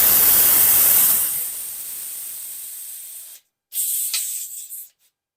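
Compressed air blown through a petcock with a hose clamped onto it: a loud, steady, close hiss that slowly tapers, cuts out briefly, then returns in a shorter sputtering burst before stopping.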